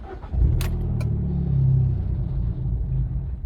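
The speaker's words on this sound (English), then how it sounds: "I'm going to try and start it. Notice the vehicle cuts out." A Fiat 595 Abarth fitted with a Starline i96v2 immobiliser cranks and briefly fires before cutting out, leaving a low rumble close by with a light jingle of keys at the start.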